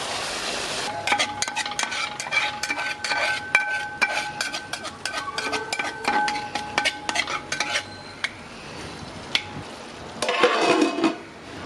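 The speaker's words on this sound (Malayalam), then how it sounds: "ചിക്കൻ ഇട്ട് കൊടുത്ത് സവാളയുമായിട്ട് നന്നായിട്ട് ഒന്ന് മിക്സ് ചെയ്യുക." Chicken being mixed with onions in a cooking pot, with rapid metallic scraping and clinking of a spoon against the pot in a busy close run, slowing after about eight seconds and ending with a brief final burst of stirring.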